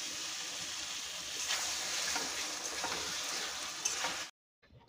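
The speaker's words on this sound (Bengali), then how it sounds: "এটা হচ্ছে বাটা মাছ, এটা ভাজা হবে" Bata fish frying in a pan at home: a steady close hiss and sizzle that runs evenly for about four seconds, then cuts off abruptly.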